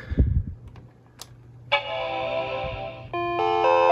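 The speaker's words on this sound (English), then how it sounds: "It would just start up, play the chimes of death" An Apple PowerBook 180 powering on and playing its error chime sequence, loud tonal notes that ring out and then shift to a second harmonic chord, after a few faint clicks and handling sounds.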